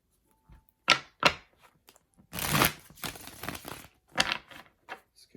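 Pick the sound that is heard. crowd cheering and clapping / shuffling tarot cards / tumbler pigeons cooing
shuffling tarot cards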